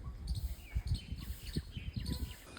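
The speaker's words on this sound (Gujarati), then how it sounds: "પંખીનો અવાજ સાંભળો" Small birds chirp and tweet in a village setting in the morning, a busy mix of short calls over a low rumbling background, moderately close.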